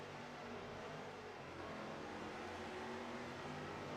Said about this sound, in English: And that number 6 car is pulling away.